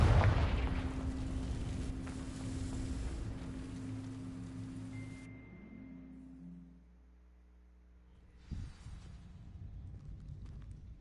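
A Confringo fire spell in a Harry Potter game blasts into dry vines with a loud crackling burst that fades over several seconds, followed by a fresh sharp whoosh and a lingering fizz.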